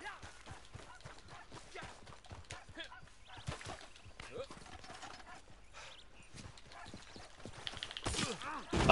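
Horse hooves clopping in the video game Red Dead Redemption 2 Online, a rapid galloping patter running under game sounds and talk throughout.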